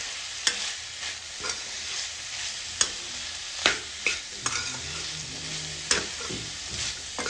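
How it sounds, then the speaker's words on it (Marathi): A spoon stirs spices into ghevda bean vegetable frying in a pan, a soft steady sizzle broken by sharp scraping clinks every second or so, close and without speech. "आता आपण हे व्यवस्थित मसाले मिक्स करून घेऊया भाजीमध्ये।"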